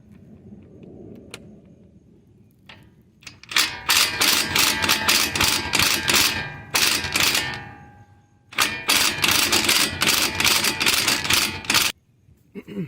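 A hand ratchet with an 18mm socket works on the sway bar link of a 2003-2007 Honda Pilot, giving rapid clicking bursts in two long runs separated by brief pauses, close and loud.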